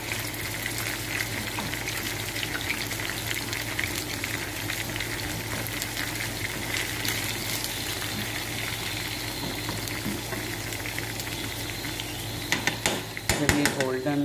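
Crushed garlic fries in a pan while being stirred, with a steady sizzle and occasional scrapes and clinks of the utensil against the metal, plus a brief clatter near the end.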